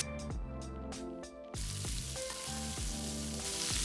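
Garlic and ginger stir frying in hot vegetable oil for a Thai sweet and sour fish, a steady loud sizzle and crackle that jumps up sharply partway through, with no talking.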